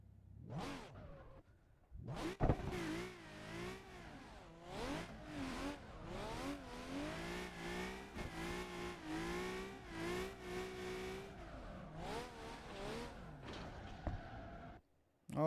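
Simulated car engine in Assetto Corsa revs hard and continuously while drifting, rising and falling with throttle over a steady run, with a short voice near the start.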